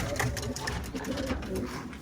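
Pigeons being released in strong wind, with soft cooing against a steady roar of wind and broadband noise throughout.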